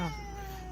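A human voice imitating a cat's meow, heard as one short, close, nasal mew that is pitched slightly down and has a held tone.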